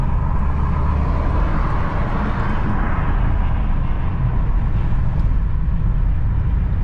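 A sports car rolls past with a loud, low exhaust rumble that stays heavy and steady throughout, close to the listener, with no talking.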